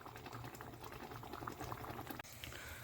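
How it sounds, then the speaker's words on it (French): A pot of water heating on a kitchen stove for cooking gives a faint, steady bubbling and simmering hiss, quiet and continuous, with a brief dip near the end. "j'ai mis l'eau à cuire"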